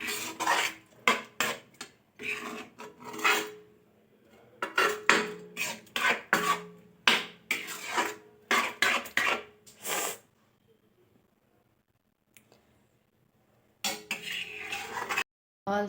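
Dishes and cutlery clatter and scrape in a home kitchen during cleaning, with bursts of clinking and rubbing for about ten seconds, then a quiet gap before the clatter returns.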